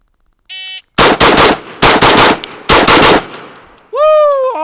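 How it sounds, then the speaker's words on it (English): A Tavor SAR duty rifle fires a nine-shot drill in three rapid bursts of three sharp, loud cracks, with a short electronic timer beep before the shots and a warbling tone after. "now I'll do a little 9-shot drill, version 1, 3 shots, 3 targets each"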